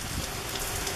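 Steady rain falling on a rural farm after a long drought, a dense, even hiss of drops on leaves and surfaces that stays close and constant with no voices.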